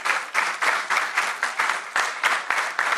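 Applause from an audience at a municipal good-practices congress panel, a few seconds of moderate clapping that rises and falls in uneven bursts.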